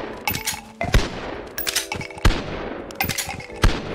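Heavy gunfire from a massive weapon in the VR game Bonelab: several loud, booming shots spaced irregularly over a few seconds, each with a sharp crack followed by a rumbling tail and clattering mechanical noise.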